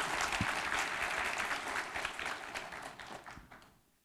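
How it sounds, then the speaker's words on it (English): A seminar audience at an international financial reporting standards event claps together, a thick, even wash of many hands that gradually thins and fades away to near silence. "thank you for the applause"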